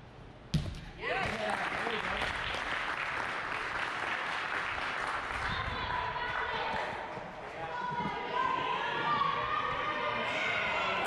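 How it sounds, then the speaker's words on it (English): A home crowd at an obstacle course competition cheers and applauds steadily for a competitor after a sharp thump near the start. A commentator talks over the crowd. "Crowd of the home team cheering her on."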